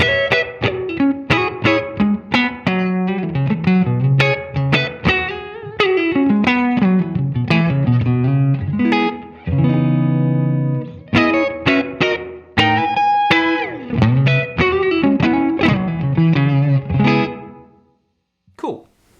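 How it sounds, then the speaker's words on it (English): An electric guitar played through a Walrus ACS1 amp and cabinet simulator pedal with its room ambience turned all the way up rings out in plucked notes, chords and sustained tones over about twenty seconds, then stops abruptly. "It definitely adds ambience and makes you feel like you're kind of, in that recording space in a small room."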